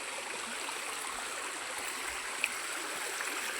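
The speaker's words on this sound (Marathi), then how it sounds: "डोंगरातून आलेलं पाणी आहे" Continuous rushing of a mountain stream, water flowing steadily over rocks with a soft, even hiss and no voices.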